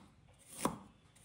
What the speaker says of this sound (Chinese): 我们来切一块生姜，